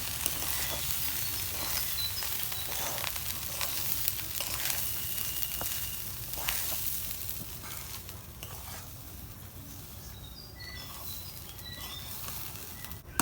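Rice being mixed into beef biryani in a cooking pot, a continuous sizzle with irregular scraping and stirring knocks, close and moderately loud, no talk.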